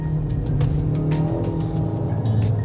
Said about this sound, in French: Le moteur monte à plus de 6000 tours par minute.